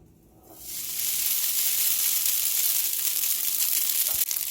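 Japchae hits a hot frying pan with an instant loud sizzle that rises after a brief quiet start and holds steady, a bright continuous frying hiss with a faint stir or scrape near the end.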